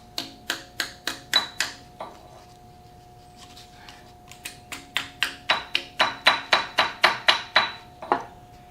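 Steady hammer blows in two bursts, about a dozen sharp, ringing strikes each, near and loud, striking metal while shimming a restored 1943 Rockford planer in a workshop, with a short pause between the runs.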